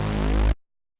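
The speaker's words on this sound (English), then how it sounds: "So it's just a unison saw." A single unison saw wave from one Serum oscillator with the filter off and detune slightly lowered: a bright, buzzy, full synth tone held for half a second, then cut off abruptly into silence.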